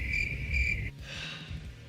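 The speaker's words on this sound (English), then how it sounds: "Fire up the crickets for me on that." Cricket chirps used as a sound effect: two clear, steady trills in quick succession, then a fainter, softer chirping that trails off.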